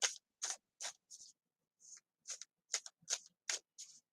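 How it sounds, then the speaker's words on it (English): Tarot cards shuffled by hand in a quiet room, a series of close, crisp riffling and sliding bursts with short pauses between them, no voices. "Just sort of shuffling the cards, shuffling the energy through them."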